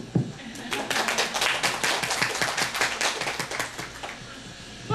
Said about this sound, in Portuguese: uma calorosa salva de palmas para quem disse que é contra